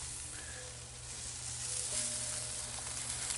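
Broccoli and white onions sizzle with a steady, even hiss in a Lodge Cook It All used as a wok over a fire, close and continuous with no talking.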